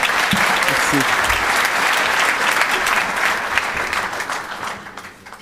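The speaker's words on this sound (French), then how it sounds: "veuillez l'applaudir." Loud, sustained applause from a meeting crowd greeting the national secretary of the peace movement, with a voice briefly heard early on, then gradually fading near the end.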